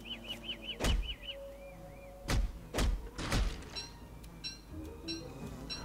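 In Don't Starve, a hammer knocks objects apart in four heavy, spaced thuds, with chirpy game effects and soft ambient tones around them.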